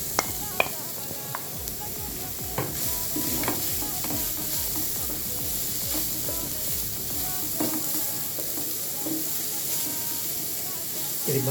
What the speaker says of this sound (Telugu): ఇప్పుడు క్యారెట్ కూడా వేసి వేయించుకుందాం.